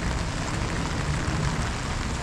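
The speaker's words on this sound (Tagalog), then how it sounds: "Patuloy pa rin yung ulan." Steady rain falls continuously during an outdoor cooking session, a dense even hiss with no breaks or voices for the whole stretch.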